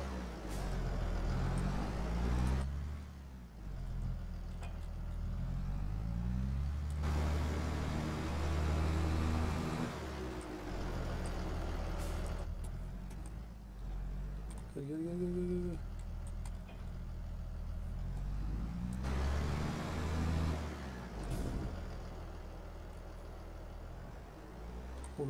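Fendt tractor engine in Farming Simulator 22: a steady, loud diesel drone that rises and falls in pitch as the tractor revs and shifts, with brief hissing and whining moments, running continuously throughout.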